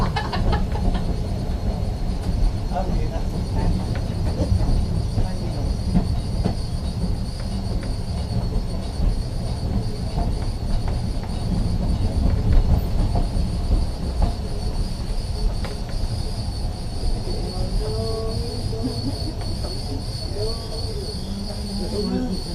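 A tram rolls steadily along its line, a continuous low rumble with faint wheel squeal and rattling, heard from on board the whole time.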